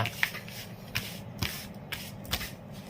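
Romance Angel Oracle cards shuffled up close, a handful of distinct soft riffling swishes spaced about half a second apart over a low steady background hum.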